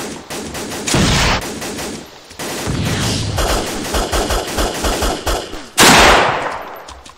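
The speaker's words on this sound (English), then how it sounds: "Well, I thought it was a machine gun." Rapid bursts of machine gun fire in a cooperative military shooter video game, loud and sustained with short pauses between volleys and a heavy blast near the end.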